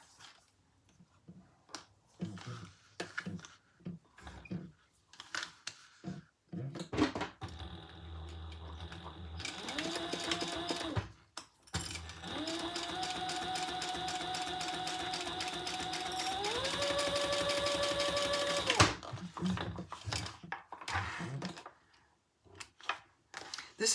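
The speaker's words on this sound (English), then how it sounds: "we're going to top stitch 1/8 of an inch" A sewing machine top stitches a rounded makeup bag in several runs: a rapid mechanical whirr that rises and holds in pitch, broken by pauses filled with clicks and handling noises, close and fairly quiet.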